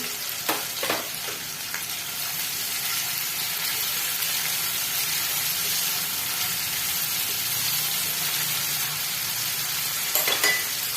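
Ginger garlic paste frying in a pan as the base of a restaurant-style tikka gravy, giving a steady, even sizzle over eleven seconds with a couple of faint clinks of a spoon near the start and end.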